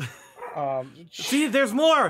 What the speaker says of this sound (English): Hey, there's a dog.